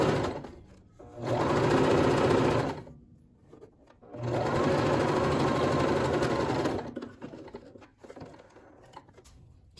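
Sewing machine topstitching a folded fabric pocket in matching lining-size fabric, running in two long steady bursts with a pause between and quieter handling afterward; no talk.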